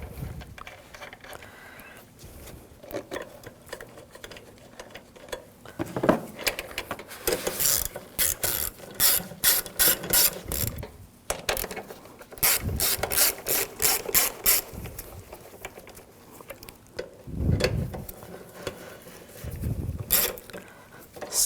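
Rapid ratchet clicking in close, repeated bursts as screws are snugged down near the mass airflow sensor connector on a 2007-2013 BMW 328i 3.0L engine, with short gaps between bursts and no talking.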